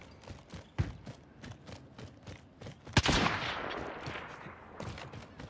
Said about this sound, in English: Who are you shooting at there, Jay?